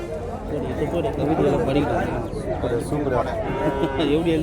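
Cattle mooing at a busy cattle market, with deep lowing calls heard amid crowd chatter and people talking nearby, fairly loud and continuous.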